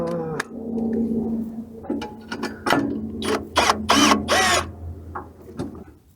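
Ratchet working skid plate bolts under a truck, fitting lower control arm skid plates: a run of short, close clicking bursts in quick succession, then a few louder sharp spurts, with no talk over it.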